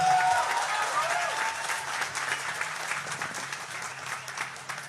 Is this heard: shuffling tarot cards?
no